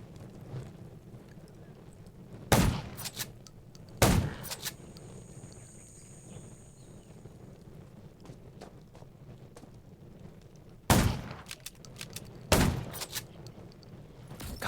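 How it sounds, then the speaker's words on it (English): Gunfire in the zombie survival game Undawn: four loud, sharp shots in two spaced pairs stand out over a steady rain-like ambient background. "Gunshots will attract more zombies."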